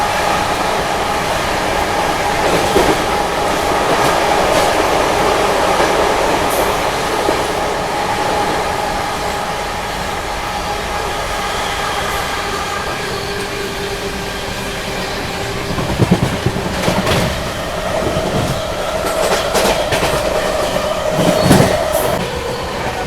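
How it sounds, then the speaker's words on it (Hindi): A New Delhi–Patna special train runs nonstop at speed on the tracks, producing a steady, loud rumble from inside with rattling clatter bursts toward the end and no talking. "नॉन स्टॉप 150 किलोमीटर लगभग अपनी ट्रेन ये भागती है"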